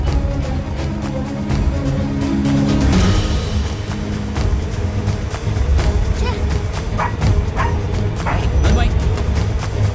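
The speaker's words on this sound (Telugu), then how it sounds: "కుక్క అరుస్తోంది" A dog barks and yips in short bursts through a Telugu children's comedy film scene, mixed with voices and a steady musical score.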